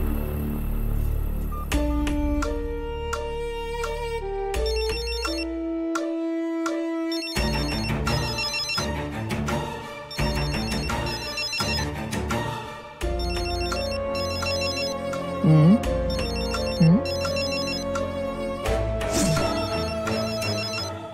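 A phone ringtone plays loud and close for about twenty seconds. Its bright electronic melody repeats continuously, with no voices over it.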